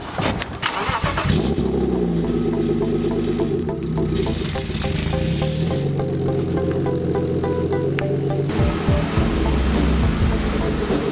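A BMW E36 325i drift car's engine starts and then idles with short revs as it creeps into a garage, a loud, rumbling engine close by throughout.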